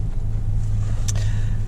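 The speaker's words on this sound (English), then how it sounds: "I quickly ran back to the car and I jumped in here and started the engine up" Steady low idling drone of a car engine heard from inside the vehicle on a wet day in the UK, continuous and even with a brief faint click partway through.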